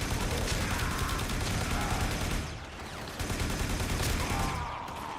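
Sustained rapid gunfire in the sci-fi shooter game Warframe, loud and close, a dense continuous fusillade of shots that dips briefly in the middle before resuming at full intensity.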